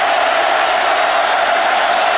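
A packed college football stadium crowd stirs before a third-down play in the 2010 Auburn vs South Carolina game, a loud, unbroken wash of massed voices holding steady throughout.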